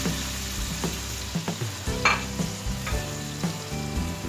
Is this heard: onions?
yes